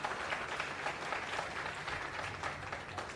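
Steady audience applause at a burnout and wellness workshop, a dense wash of many hands clapping at moderate level, continuous for a few seconds with no voices standing out.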